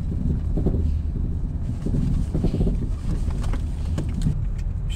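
A car drives through the streets of Kostanay in winter, giving a steady, close, low engine and road rumble with slight wind buffeting and no break in the noise.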